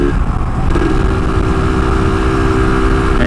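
A Yamaha RXZ two-stroke motorcycle engine idling, a loud, steady, close-up burbling drone with an even rhythm throughout and no talking.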